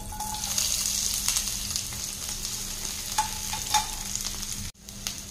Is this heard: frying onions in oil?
yes